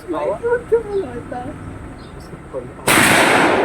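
At an outdoor shooting range, people talk before a loud, abrupt blast of gunfire that cuts in near the end and fills the remaining moments.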